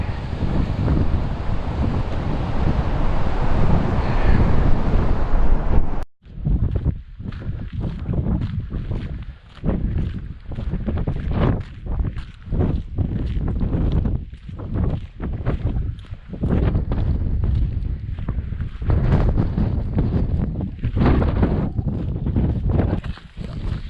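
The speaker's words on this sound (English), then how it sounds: "this is a very windy and horrible day." Strong wind buffets the microphone in a loud, roaring rush, then keeps gusting in choppy bursts that rise and fall for the rest of the time.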